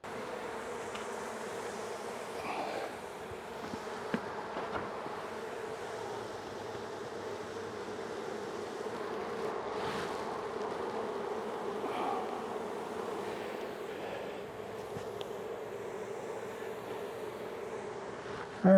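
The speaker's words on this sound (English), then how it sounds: "get all the bees that are around the edge of it that are just with their Nasonov glands up in the air" Honey bees hum steadily around an open hive during a summer inspection, a dense continuous buzz at moderate level with no voices, holding unbroken for the whole stretch.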